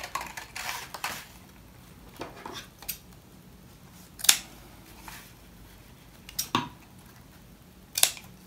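Scissors cut fabric bias tape for a sewn phone case, giving a handful of sharp, irregularly spaced snips and clicks over a quiet room with no voices.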